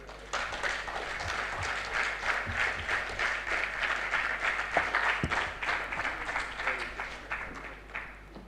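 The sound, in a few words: applause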